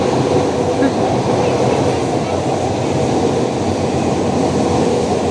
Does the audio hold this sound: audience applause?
no